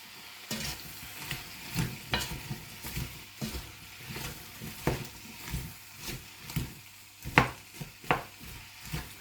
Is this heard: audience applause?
no